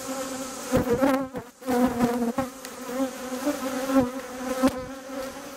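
Honey bees from a freshly split hive crowded with nurse bees hum steadily at close range, a dense continuous drone with brief dips, heard alone without talk.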